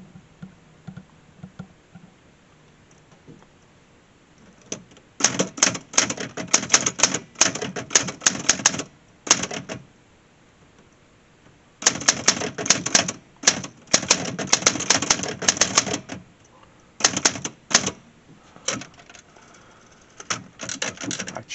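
A 1958 Olympia SG1 manual typewriter being typed on, its keys striking in rapid clattering bursts separated by short pauses, close and clear with no talking.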